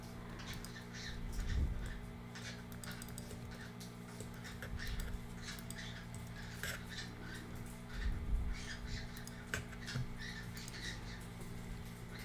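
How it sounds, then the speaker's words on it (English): Birds calling at a low level amid steady ambient hum, with scattered faint chirps and squawks and a few louder ticking clicks through the stretch. "What happy birds you guys are right now. I love those noises."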